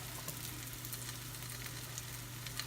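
Flattened dough sizzles steadily in hot frying oil, a soft continuous crackle with a low hum underneath and no talking.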